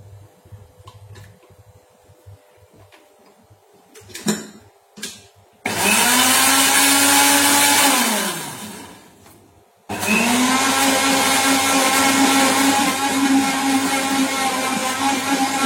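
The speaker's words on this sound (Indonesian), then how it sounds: "Saya tidak punya parutan, ya saya pakai blender." A kitchen blender, used in place of a grater to grind ingredients for homemade hand sanitizer, roars loudly in two separate runs after some quieter handling noises: a steady whirring grind that winds down, then starts again.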